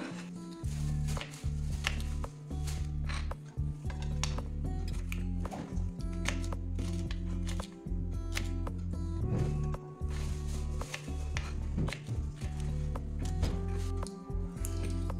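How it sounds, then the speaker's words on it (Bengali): Okra is chopped with a knife on a board in a home kitchen, a series of dull, close knocks falling in irregular rhythm over a steady low hum, with no voices. "তো প্রথমে আমি ভেন্ডিগুলো কেটে নেব।"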